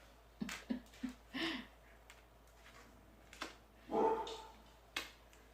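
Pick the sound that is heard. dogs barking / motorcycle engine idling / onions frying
dogs barking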